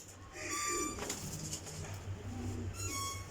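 Young flying pigeons coo softly in a couple of low, murmuring bursts over a steady background hum, with no talking.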